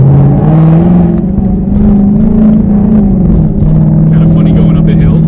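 A car in Sport Plus mode pulls away uphill from first gear, its engine a loud, steady droning rumble with tones that climb and dip as it accelerates.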